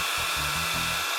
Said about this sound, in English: Screw it, I'm getting the hairdryer.